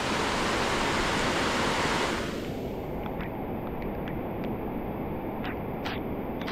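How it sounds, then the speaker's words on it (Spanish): Loud, steady broadband roar of a river swollen in flood after heavy rain, continuous throughout with no voices over it. "Es que viene fuerte la, la creciente aquí"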